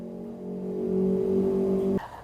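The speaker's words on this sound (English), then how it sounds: "If you guys heard the noise in the background, that was some motorcycle bikes." A motor vehicle engine drones steadily in the background for about two seconds, rising slightly, then cuts off abruptly, followed by faint ambient noise.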